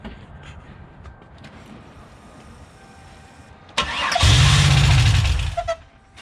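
Supercharged Pontiac Bonneville SSEi engine cranking with a loud burst as it catches and runs briefly, then cuts off, after a stretch of quieter background noise; no talking.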